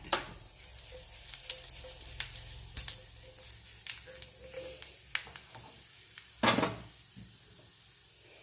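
Mustard seeds, dried red chilies and curry leaves sizzle in a small amount of coconut oil, with scattered sharp crackles and pops and a few clanks of a pan and utensil, fairly faint and close.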